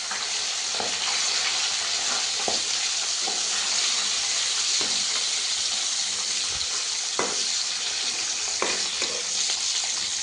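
Fish frying in hot oil in a pan, a loud, dense, unbroken sizzle close by with a few soft knocks and crackles, and no one speaking.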